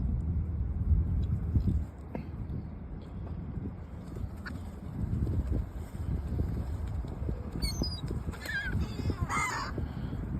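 Seagulls squawk and call near and far while being fed Taco Bell outdoors, harsh cries rising over steady wind noise, with a few sharper calls near the end.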